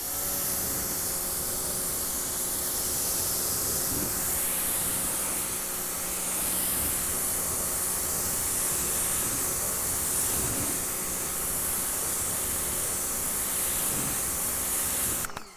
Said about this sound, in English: Now we can clean it off with the other attachment.